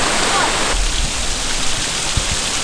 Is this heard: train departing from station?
no